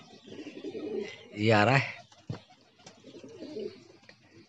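A Rampuri pigeon flies back to its loft, with soft cooing and faint bird sounds at low volume, while someone speaks briefly over them.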